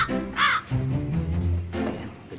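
Caged birds give loud, crow-like calls close by, a few harsh, drawn-out caws with tonal cries, mixed with shuffling and brief indistinct voices.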